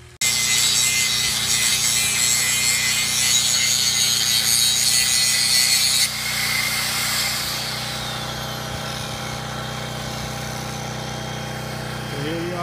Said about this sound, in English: So here we are grinding in some posts, setting H-braces